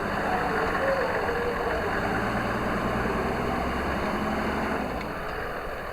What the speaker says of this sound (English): Boy, the engines have diesels in them, right?